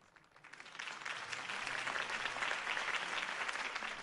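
Crowd applause at a campaign speech for Harvey Dent in the Batman Telltale game, rising quickly from quiet into steady, moderately distant clapping that continues throughout.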